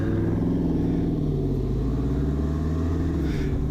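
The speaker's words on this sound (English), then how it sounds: "you can hear that nice car" A car engine idling or running steadily with a low, continuous rumble and even tone, heard alone without talk.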